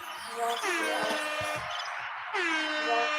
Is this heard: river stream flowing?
no